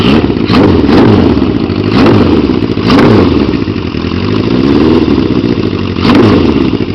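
A 1973 Honda CB550 bobber motorcycle engine runs loud and close with a rough, lumpy idle, the rumble swelling with several quick throttle blips.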